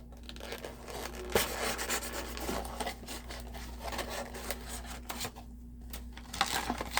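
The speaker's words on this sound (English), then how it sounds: "I'm going to take the 5 minutes and unscrew this one from the base." Someone unscrews a die-cast 1971 Camaro model from its display base, producing quiet, intermittent scraping and fiddling sounds over a low, steady hum.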